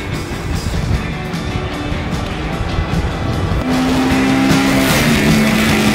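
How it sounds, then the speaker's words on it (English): Suzuki GSX-R motorcycles racing at Shannonville Motorsports Park, with a loud, continuous engine roar that rises in pitch as bikes come closer and pass, without speech. "we've got a couple of GSXRs from the Suzuki company"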